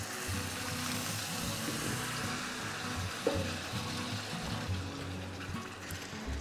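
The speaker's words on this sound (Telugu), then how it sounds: "ఇదిగోండి ఇప్పుడు నేను నీళ్ళు అనేది పోసాను" Water poured into frying gravy for a chicken curry in a home kitchen, a soft steady splashing and sizzle, fairly quiet and close, with no talking.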